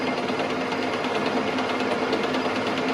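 An engine piston spins on a lathe, producing a steady, even mechanical whir with a fast rhythmic hum and light vibration throughout, close and constant.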